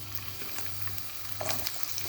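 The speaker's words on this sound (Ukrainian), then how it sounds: "Наливаю на сковорідку олію, олії 50 мл. І відправляю сюди цибульку." Steady sizzling and crackling of onions frying in hot oil in a pan, with occasional small pops, close and fairly quiet.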